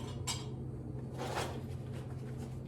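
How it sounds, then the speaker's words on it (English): A single scoop of ice tipped into a bag for crushing for a mint julep, heard as a short, close clatter and rattle of cubes, with a fainter clinking shuffle a moment later. "So now we'll take 1 scoop of ice, put it in our bag"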